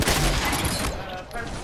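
Rapid Fortnite gunfire during a 1v1 build battle, a dense burst of shots at the start that thins out toward the end, with voices talking over it.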